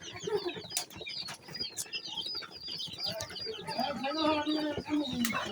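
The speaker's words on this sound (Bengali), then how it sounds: "মুরগির ফার্ম দেখেন।" Chickens on a poultry farm cluck and chatter in a dense, continuous cluster of calls close by, with scattered short squawks and a busy flock murmur throughout.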